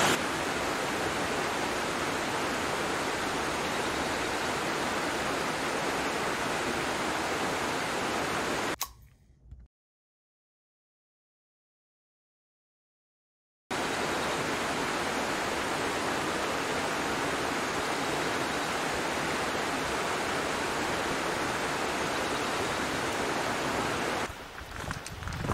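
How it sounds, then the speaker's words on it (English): A waterfall in Newell Creek Canyon gives a steady, full roar of falling water, close and constant, broken by a few seconds of complete silence midway before the rush resumes. "Apparently there's actually a waterfall in Newell Creek Canyon."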